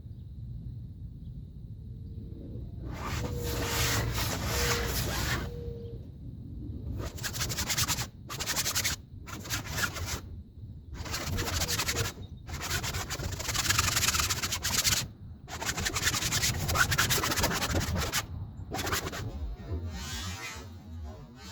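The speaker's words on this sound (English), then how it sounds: "here's my plastic that I'm using as my squeegee to rub it in." Plastic squeegee rubbing silicone waterproofing into canvas, bursts of scraping friction in repeated strokes separated by short quiet gaps, close and moderately loud.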